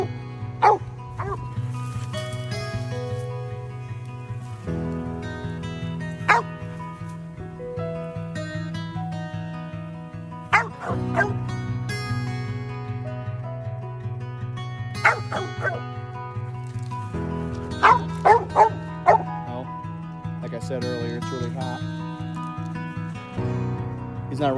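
A tree dog barks repeatedly and whimpers in hot weather outdoors, with steady whining tones broken by sharp bursts of barking across the whole stretch, close and fairly loud.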